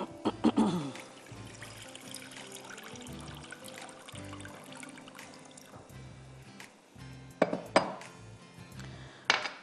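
Water is poured into a pan of soup base with paprika and stock cubes, a steady trickling splash over several seconds, broken by a few sharp clinks of a pot or utensil near the end.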